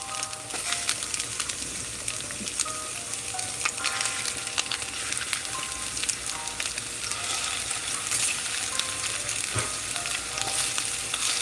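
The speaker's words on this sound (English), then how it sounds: "let's get our meatballs going. And you hear that sizzle?" Meatballs sizzle and crackle steadily in a hot frying pan, a close, continuous hiss with scattered pops and occasional stirring scrapes, and no voices.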